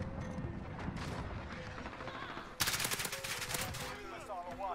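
In a video game, gunshots break out: after a stretch of busy background, a sudden close burst of rapid automatic fire hits hard and continues for over a second before fading into lighter game sounds.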